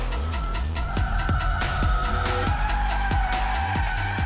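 A Jaguar F-Type sports car drifts with stability control off, its engine surging up and down in repeated pulls under steady tire squeal, loud and close.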